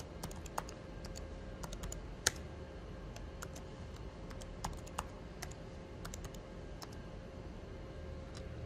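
Quiet, scattered keystrokes on a computer keyboard while a console password is entered for a Huawei 5735 network switch, light clicks at an irregular pace over a low steady hum, no voices.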